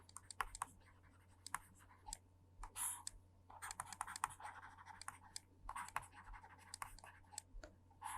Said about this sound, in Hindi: इस साइड को भी हम ऐसे ही दोबारा एक दफ़ा लिख लेते हैं